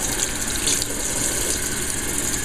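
Warm water runs from a kitchen tap into a sink while a hummingbird feeder is being cleaned, a steady close hiss of flowing water with no talk.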